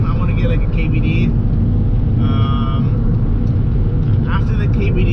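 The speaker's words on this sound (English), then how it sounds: "You can barely even hear my car." A car with its stock OEM exhaust idles or cruises steadily, giving a low, smooth rumble with no sharp revs, heard from close by for the whole stretch.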